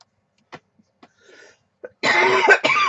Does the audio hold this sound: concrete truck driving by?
no